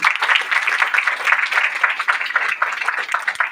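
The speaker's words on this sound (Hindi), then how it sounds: "इनके लिए जोरदार ताली" Loud, close applause bursts from a gathering at an Om Shanti centre New Year programme, many hands clapping briskly and unevenly without a break.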